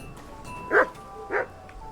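A dog in Kingdom Come: Deliverance II gives two short barks about half a second apart, moderately loud over a quiet ambient background with no talking.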